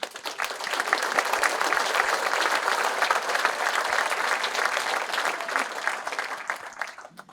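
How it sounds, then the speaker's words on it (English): A large crowd at a fire department recruit graduation ceremony gives a long, even round of clapping for families and loved ones, building quickly, holding steady for several seconds, then tapering off at the end. "Could you join me in giving your family and loved ones a round of applause?"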